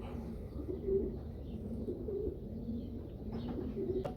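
A racing pigeon hen coos in a loft during the old bird season, low repeated coos coming in three soft phrases at a steady rhythm, fairly close, with faint background noise and an occasional brief chirp.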